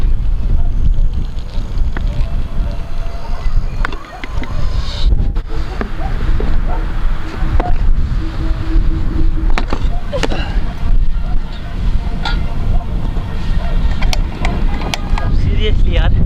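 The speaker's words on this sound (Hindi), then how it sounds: "हवा चल रही है दोस्तों, क्या ही कहूँ।" Strong, cold wind blowing across a mountain campsite at night in India, a loud continuous roar and buffeting against the microphone lasting throughout, with no break in the gusting.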